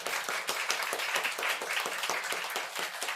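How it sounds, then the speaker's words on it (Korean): A church congregation at a Sunday service gives a blessing round of applause, many hands clapping in a steady, moderately loud patter heard from within the room, lasting the whole moment. "우리 축복의 박수 한번 부탁드리겠습니다"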